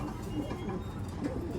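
A pigeon from a Bio Pigeon bloodline gives soft, low cooing at close range, the faint murmur sitting in a muffled loft background.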